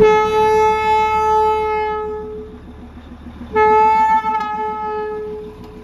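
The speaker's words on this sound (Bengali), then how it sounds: "এই যে হর্ন দিচ্ছে টয় ট্রেন" Darjeeling toy train sounding a long, loud horn in two blasts, the first held for about two seconds and the second starting partway through, over the low rumble of the moving three-coach train.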